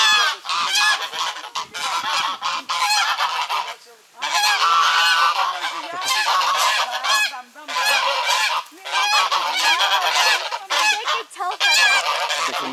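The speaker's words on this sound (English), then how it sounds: "Oh yeah, geese." Geese on a Ukrainian village farm honking loudly and continuously, a close flock calling over one another in overlapping squawking bursts with brief pauses.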